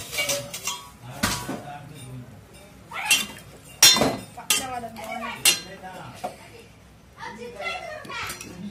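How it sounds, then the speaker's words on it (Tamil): A metal plate is set down as a lid over a pan of squid curry, giving a few bright metallic clinks and clatters amid kitchen handling. Voices, including a child's, talk over them. "அதுக்கு தான் இப்போ தட்டெடுத்து நல்லா மூடிக்கிறோம்"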